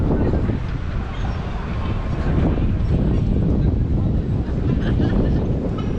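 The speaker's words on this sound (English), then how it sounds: "It's sunny but windy." Strong wind buffets the microphone on a sunny, cold day around Taksim Square, Istanbul, with a steady, rumbling roar that never lets up, loud and close throughout.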